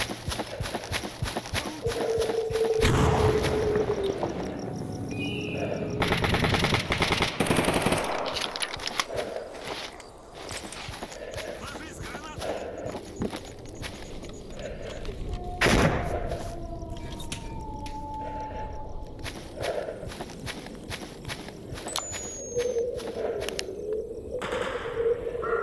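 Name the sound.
gunfire in the video game Stalker Anthology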